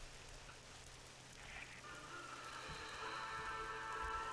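Rain in the Red Rising mod of a strategy video game, a faint steady patter and hiss of drops that thickens slightly toward the end, quiet and continuous with no voices.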